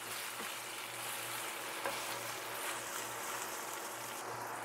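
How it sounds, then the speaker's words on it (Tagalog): Ground beef sautéing with onions in a pan, a soft steady sizzle and crackle, faint and even, with a low hum running beneath. "Gigisahin lang ito hanggang sa ito ay maluto."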